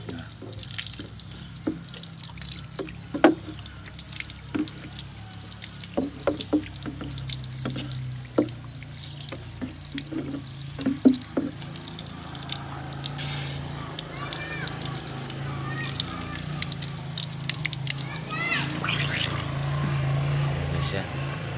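Water splashes and streams over a motorcycle engine being rinsed after rust cleaning, with scattered drips and splatters growing into a steadier spray toward the end, heard close up beneath occasional talking.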